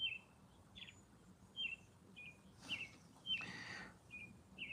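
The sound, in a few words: birds chirping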